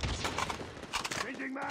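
A rapid burst of gunfire from Call of Duty Mobile gameplay: several sharp shots in quick succession, close and loud, followed by quieter in-game sounds.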